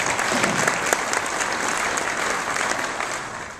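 Sustained audience applause at a Florida Farm Bureau candidates forum, a dense, even roar of many hands clapping throughout, with no speech over it.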